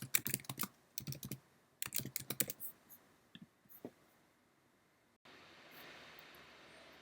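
Quick bursts of typing on a computer keyboard, close and crisp, with rapid clustered key clicks and short pauses, then a steady soft hiss.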